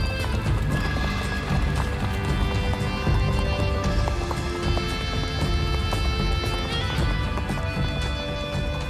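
Hooves of an Icelandic horse clip-clop steadily along an old, disused path in Iceland, a brisk close rhythm that runs the whole time, joined by a whinny and light background music.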